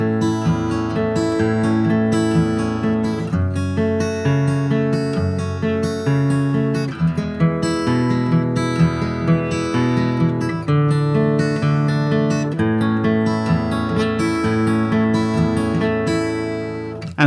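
Fingerpicked acoustic guitar plays the verse of a song in a steady rolling pattern of plucked notes and chords, close and continuous with no talking.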